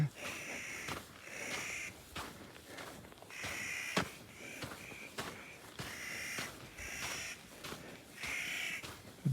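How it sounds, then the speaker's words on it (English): Crows trade harsh caws back and forth at a meadow along the John Muir Trail, repeated bursts of calls in uneven rhythm with quiet gaps and soft background rustle. "The birds are calling each other."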